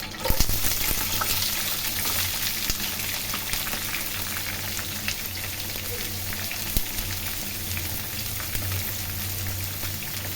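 Chopped onions frying and sizzling steadily in a pan for an egg pepper fry, a continuous close crackle with faint clinks and stirring, no talk.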